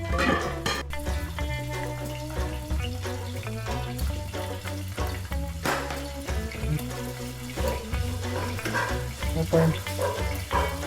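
Flour stirred into spinach and smoked sausage frying in a pan for a Taiwanese dish, a steady loud sizzle with scraping spoon strokes throughout.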